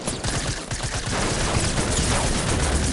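Rapid gunfire in an online shooter, dense overlapping bursts and crackling shots that swell into a sustained volley, loud and close with no talking.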